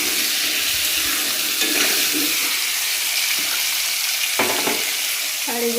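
Potatoes fry in a pan of vegetable curry, a steady broadband sizzle running throughout with several short scraping stirs and clinks of a utensil against the pan, close and fairly loud.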